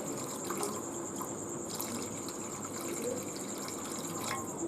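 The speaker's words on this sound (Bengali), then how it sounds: "মশলা মিক্স করা হয়ে গেছে, এতে এবার পরিমাণ মতন জল দিয়ে দিই।" Water poured from a tap into a spice mix for Yippee noodles, a steady continuous running splash that holds at an even level throughout, close by, with no talk.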